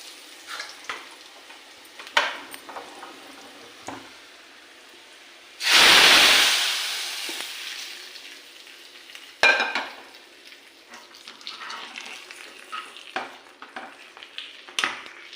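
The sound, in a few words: tempering sizzling as it is poured into sambar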